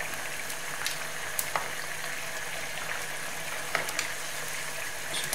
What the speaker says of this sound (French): on va augmenter le feu pour faire évaporer au maximum et avoir une espèce de caramel